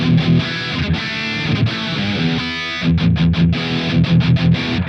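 Heavily distorted metal guitar through a Bias FX 04 Insane 5153 amp model on an iPad chugs in tight rhythmic bursts with brief pauses, the bright, harsh tone playing alone.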